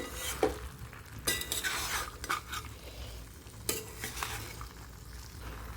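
Pumpkin curry (kumro chhokka) is stirred in a pan with a spatula in repeated scraping strokes, a few sharper metal clinks among them, over a low, soft sizzle.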